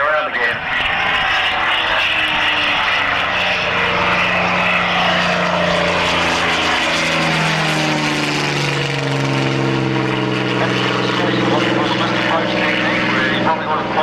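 Propeller aircraft aborting its landing and climbing away on a go-around at an air show at Matamata Airfield, its loud, steady engine drone rising and shifting in pitch as it passes close by.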